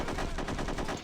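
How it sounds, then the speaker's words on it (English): Gorgon SMG gunfire in the game No One Lives Forever 2, a loud, dense, continuous automatic burst filling the whole moment with rapid repeated shots. "They have the Gorgon SMG."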